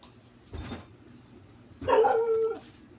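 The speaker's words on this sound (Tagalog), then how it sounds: "Ingay yung mga aso." Two dog barks: a short muffled bark, then after a pause a louder, higher yelping bark, nearby with quiet background between.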